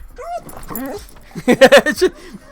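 Penny the dog whimpers and yips in short high whines, then a louder cluster of cries near the end, close to the microphone with no talk over it.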